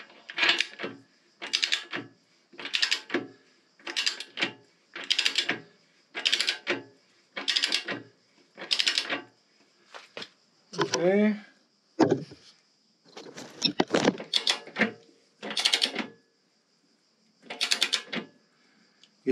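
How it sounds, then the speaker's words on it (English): A torque wrench on the rear wheel axle of a Harley Davidson Evo ratchets in short, regular bursts of clicking, close and distinct, with brief talk partway through. "All right, so I have set up this to 60, the torque wrench,"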